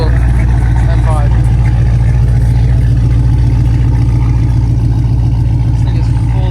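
A fully built Porsche Turbo S idles loudly at a rainy car meet, its deep steady engine drone constant and close, with people talking over it.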